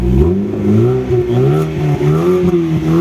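A Volkswagen Golf 4 accelerates on the road, its engine note rising and falling loud and close through several revs as it drives.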